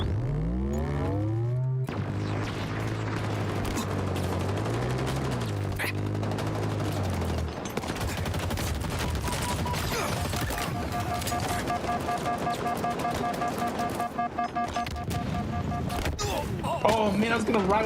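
Heavy gunfire and blasts in a Halo game, likely from a tank, in a continuous loud wash of shots and explosions, with voices speaking over the fighting.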